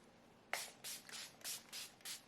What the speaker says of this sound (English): I'm going to set the face using my Revolution Hydrate and Fix Radiance Makeup Fixing Spray